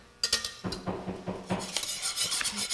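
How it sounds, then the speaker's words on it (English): Trifle pudding mixture being whisked in a pot, a steady run of close metallic scraping and clinking as the whisk strikes the pot's sides, continuous and busy throughout with no talking. "we're gonna whisk this together"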